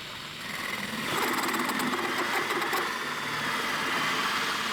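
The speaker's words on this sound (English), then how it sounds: "Now I've got the flat bottom hole drilled. I have the hole all the way through for the bolt to go through" A drill bores a bolt hole all the way through a shop-made knob, guided by a pilot bit, giving a steady, close, whirring drone that holds level for several seconds with no talk.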